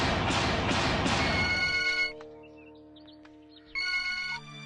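A telephone rings with bright, loud electronic ringtone bursts in a room, cutting off after about two seconds, then after a short quiet spell a second ring burst sounds briefly.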